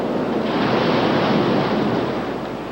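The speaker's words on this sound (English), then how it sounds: "Waves are powerful out there." Powerful ocean waves break over the coral reef at Grajagan Bay, Java, Indonesia, in a loud, steady roar of surf mixed with wind rumble, close by and with no voices.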